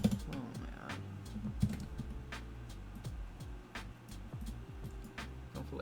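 Quiet computer keyboard typing, a run of soft irregular key clicks and taps at close range, tapping in short bursts with small pauses, no speech over it.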